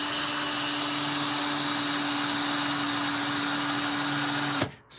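A power drill whines steadily and loudly while sanding the cut edge of a ring, holding one constant pitch throughout before cutting off near the end.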